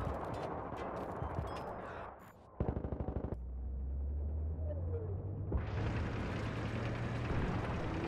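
Full-auto gunfire in Battlefield 3, with dense rattling bursts of shots, a short pause, then another quick rapid string of rounds, followed by rumbling combat ambience and a rising hiss.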